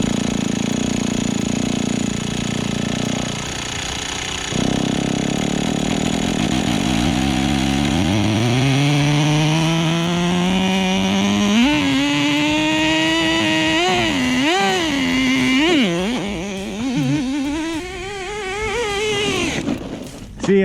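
The small, high-pitched nitro engine of a Traxxas Nitro Stampede RC truck sputters, then catches and revs up and down repeatedly, its whining tone rising and falling loudly up close. The truck has a clutch problem.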